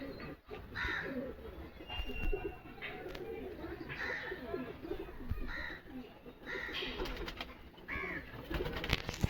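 Pigeons coo repeatedly in a home loft at Habra, the soft throaty calls recurring every second or two among general bird chatter and rustling.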